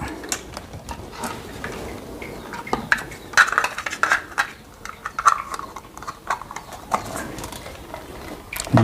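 Plastic cover of an infrared motion sensor snapped shut by hand, a handful of small close-up clicks and taps over a quiet room hum, no one speaking.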